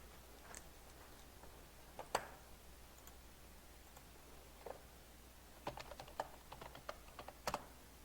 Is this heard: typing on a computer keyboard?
yes